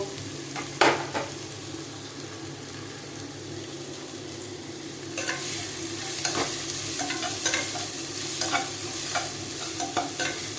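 Vegetables and potato being stir-fried in a pan for chow mein, a steady close sizzle with repeated scraping stirs that grow louder and busier partway through, no talking.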